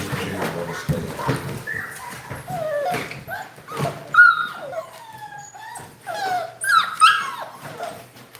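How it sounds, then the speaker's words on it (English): Several American Bully puppies from two litters whimper and yip in high, wavering cries, close and repeated in irregular bursts, with faint low rustling underneath. "This looks like a lot of puppies, but it's actually 2 litters."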